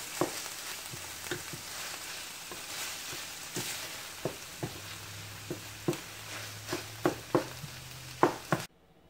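Food stirred in a frying pan during breakfast burrito meal prep: a low continuous sizzle under a series of sharp spatula scrapes and taps that grow more frequent toward the end, close-up with no talking.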